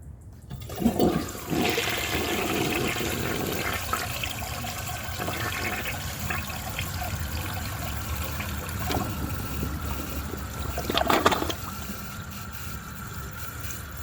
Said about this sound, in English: So I will show you guys a flush